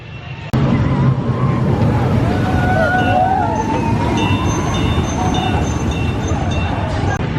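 The Seven Dwarfs Mine Train roller coaster at Disney World rumbles along its track after a sharp knock, with a steady mechanical roar, rider screams and crowd chatter mixed in at theme-park distance.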